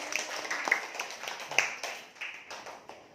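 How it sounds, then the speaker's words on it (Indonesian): Children in a classroom clap in a brief scattered burst of uneven hand claps, fairly faint and close, with voices mingling among them. "Ayo tepuk tangan dulu untuk Anies."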